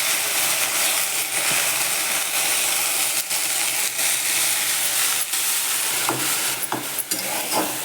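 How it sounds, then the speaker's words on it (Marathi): Hot tempering (phodni) sizzles loudly as it is poured into cooked dal (varan) in a Maharashtrian fasting-meal kitchen, a steady broadband crackle with a few sharp clinks and scrapes near the end, no talk. "वरणाला फोडणी घालून देते"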